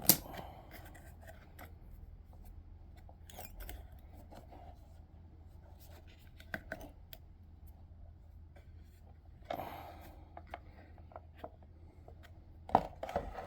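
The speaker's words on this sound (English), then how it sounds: "The string is wrapped around the blade and the cover, so I cut it with some scissors." Scissors snip string wrapped around the blade and cover of a generic 9-inch desk fan, with faint, sparse cutting clicks and light handling noises over a quiet background.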